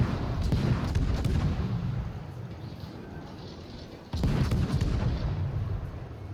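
Heavy naval gun salvos from the French destroyer Le Terrible in the World of Warships video game, with dense booming blasts and rumbling reverberation, a fresh loud volley arriving after a quieter stretch.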